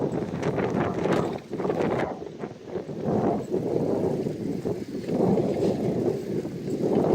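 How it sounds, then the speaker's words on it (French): Strong, gusty wind roars across the microphone on a seaside road in Ireland. A continuous low buffeting rumble rises and falls with the gusts and carries on without pause. "Et comme vous pouvez le voir, c'est très très venteux, tout le temps, mais tout le temps partout."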